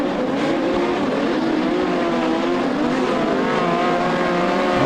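Modified production race cars four wide at Lismore Speedway, accelerating down the back straight in a loud continuous roar of several engines.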